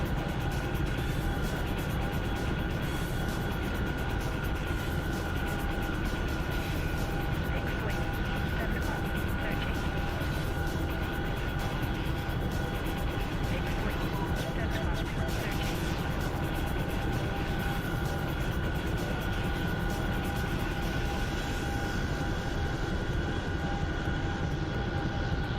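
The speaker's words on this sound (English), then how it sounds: "these helicopters are so loud" Helicopter flying in the DCS combat flight simulator game, a loud continuous rotor and engine drone with steady tonal whine that holds unbroken throughout, no pauses or changes in level.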